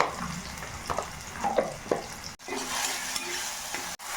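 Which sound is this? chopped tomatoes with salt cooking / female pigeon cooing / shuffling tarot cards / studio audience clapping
chopped tomatoes with salt cooking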